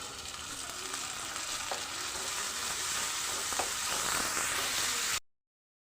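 Onion fries in a pan until reddish, giving a steady, close sizzle of hot oil with a few soft stirring scrapes, continuous for about five seconds before cutting off abruptly to silence.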